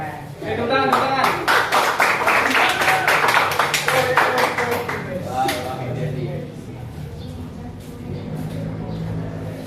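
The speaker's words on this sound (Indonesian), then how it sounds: "Tepuk tangan, tepuk tangan." Scattered hand clapping from a group, fairly close and lively at first, then thinning out as voices talk over and after it.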